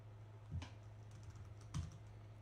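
Computer keyboard typing, a couple of soft, distinct keystroke taps spaced about a second apart, faint and close over a steady low electrical hum.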